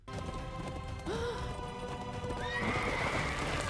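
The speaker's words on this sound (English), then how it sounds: "On a horse?" In an X-Men '97 animated episode, a horse neighs in two rising whinnies while hooves clatter and clop beneath, close and fairly loud amid busy background sound.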